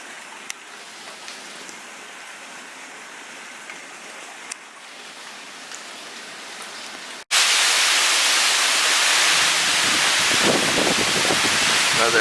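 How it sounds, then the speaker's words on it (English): Hurricane Hanna brings a band of wind and rain over Houston: a quiet, steady hiss of light rain gives way to a sudden, loud, broadband roar of gusting wind and heavy downpour that continues to the end. "Another band of wind and rain coming through again."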